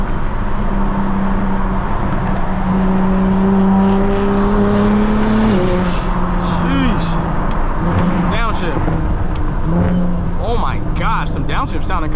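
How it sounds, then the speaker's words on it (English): Big-turbo BMW 335is on a night drive, engine revving up and dropping as it downshifts, with turbo whoosh and flutter, loud and close from inside the car, with voices talking over it. "Downshift sounding kind of crazy right now."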